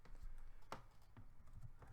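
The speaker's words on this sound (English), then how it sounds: "I'm typing sideways, so I'm not very good there." Sparse, quiet keystrokes on a computer keyboard in a makeup studio, a few separate clicks with pauses between them, typed at an awkward sideways angle.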